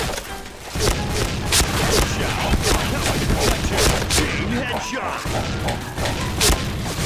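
Dense gunfire from the shooter game Point Blank rattles in continuous overlapping bursts with thuds and impacts, loud and close, while a voice talks over it.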